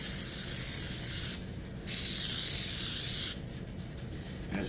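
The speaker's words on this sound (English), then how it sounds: "we're gonna spray on top of them" Cooking spray hisses onto coffee filters laid in a cake pan, in two bursts of about a second and a half each separated by a short pause, loud and close with no talk.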